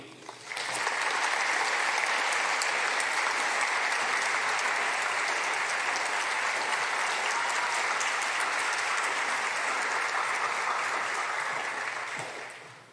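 An audience applauds in welcome for speaker Sopheap Pich, steady, sustained clapping that fills the room for about twelve seconds before tapering off at the end.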